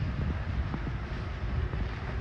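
Cool wind blows outdoors, buffeting the microphone with a steady low rumble that runs through the whole moment without pause.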